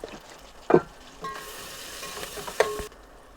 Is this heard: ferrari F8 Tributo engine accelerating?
no